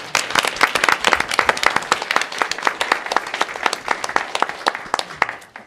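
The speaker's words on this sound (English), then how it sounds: "Let's give Lily a round of applause." A panel-discussion audience gives a round of applause for a speaker, with crisp, distinct claps from a modest group, close and fairly loud, thinning out toward the end.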